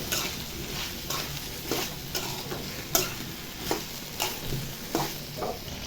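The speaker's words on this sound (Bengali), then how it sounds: "টমেটো এবং পেঁয়াজের কলিটা দেওয়ার পরে একটু ভালো করে লেড়ে চেড়ে কষাই নেব" Tomatoes and onion stalks are stir-fried with potatoes in a pan for an egg curry with mixed vegetables. A steady low sizzle runs under repeated scraping strokes of a spatula, the strokes coming about every half second, close and clear, with no talking.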